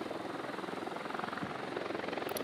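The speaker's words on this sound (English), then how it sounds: "The drone is up." A drone hovering in a military shooter video game, a steady pulsing rotor hum at moderate level with fast rhythmic beating, heard alone.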